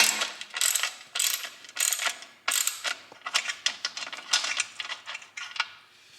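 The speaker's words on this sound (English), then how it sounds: "I'm going to take a T40. Remove this front hanger." T40 Torx tool working loose an exhaust hanger on a KTM 250 SX two-stroke dirt bike, giving a close series of quick metallic ratcheting clicks in short irregular bursts, with no talking.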